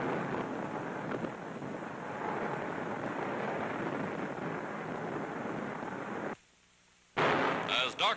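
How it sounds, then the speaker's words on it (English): Allied big guns of World War II open fire at nightfall, a steady roar of distant artillery rumbling under newsreel narration, cut by a brief silence before resuming. "the Allied big guns go into action to prepare the way for complete collapse of the Axis defenses."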